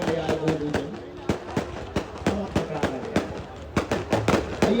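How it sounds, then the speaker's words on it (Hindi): Firecrackers bursting repeatedly at a Hindu religious gathering, sharp cracks in an irregular rapid series, some close and loud, over a steady crowd and chanting background. "आज पहले दिन भारी फटाखा ले आए,"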